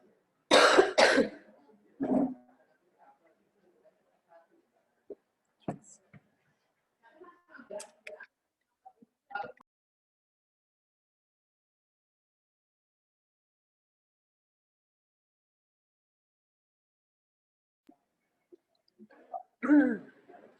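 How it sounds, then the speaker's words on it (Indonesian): A speaker at a seminar gives a few separate bursts of coughing and throat clearing, close and fairly loud, separated by long quiet gaps with faint clicks. "agak batuk"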